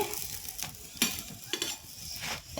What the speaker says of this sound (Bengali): এখন আমি এইভাবে উল্টিয়ে দিচ্ছি দেখুন পরোটাটা এখন আমি উল্টিয়ে দিচ্ছি